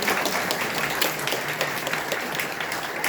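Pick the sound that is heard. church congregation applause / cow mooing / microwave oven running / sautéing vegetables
church congregation applause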